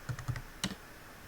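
A few quick keystrokes on a computer keyboard while typing a pip install command into a command prompt, three or four soft close clicks followed by silence.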